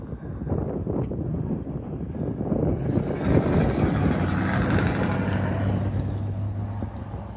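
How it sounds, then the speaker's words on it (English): Strong wind buffets the microphone outdoors at dusk near a ballpark, a loud continuous rumbling roar with gusty swells, and a low engine-like hum creeps in toward the end. "It is very windy out here."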